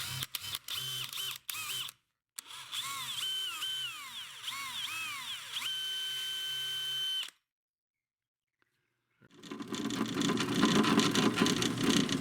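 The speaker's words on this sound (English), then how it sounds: "So we're basically going to do a pilot hole." A drill bores a pilot hole through a log for a homemade lamp, its motor whining with rising and falling pitch in several bursts, then a pause before a loud, rough grinding stretch of cutting.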